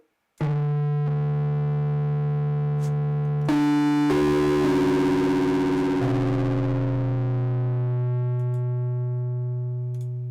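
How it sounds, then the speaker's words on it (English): A bell sample run through heavy distortion: sustained tonal notes with a harsh buzzing edge, shifting pitch a few times and slowly fading out, with no voices. "Well, there's distortion there if you need it."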